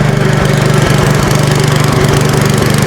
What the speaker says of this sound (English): I mean, it's not idling perfectly. It's got a little pop to it, so the carburetor still needs to be a little bit dialed in.